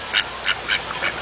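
Ducks at a pond quack four times in quick succession, loud and close, with no voices in between.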